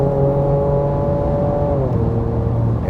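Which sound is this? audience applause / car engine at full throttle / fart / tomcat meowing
car engine at full throttle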